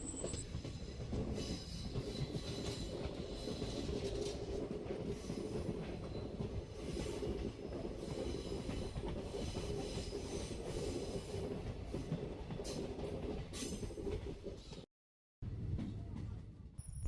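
A train on the Thenmala to Sengottai line rumbles steadily through a tunnel with a dense, echoing roar and occasional wheel squeals, with a brief drop to near silence.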